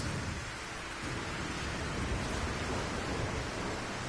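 Rain and rumbling thunder from a thunderstorm in the video game No Man's Sky, a steady dense roar that fills the scene with no break, heard alone without any talk.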